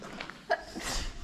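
A single sharp human sneeze, close and fairly loud, outdoors in Algeria, with faint background noise before and after.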